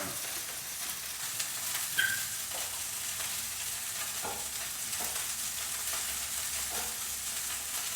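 Halibut fries in butter as it browns in a pan, a soft continuous sizzle with occasional small pops and light clicks, steady and moderately close, without speech.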